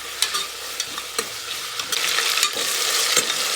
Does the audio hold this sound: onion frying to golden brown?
yes